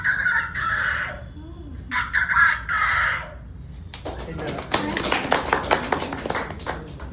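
A man imitates a rooster crowing in the morning with two long, loud vocal crows, followed by a burst of clapping and cheering from an audience.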